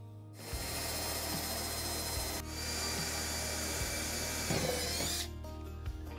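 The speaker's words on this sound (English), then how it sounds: "Keep the drill straight." A power drill bores into timber deck blocking beneath a surface, a continuous whirring grind in two long bursts separated by a brief pause, close and fairly quiet, ending as the motor stops.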